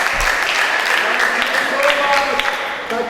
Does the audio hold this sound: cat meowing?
no